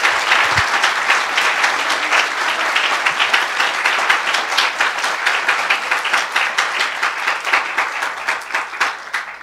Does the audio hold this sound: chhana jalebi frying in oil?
no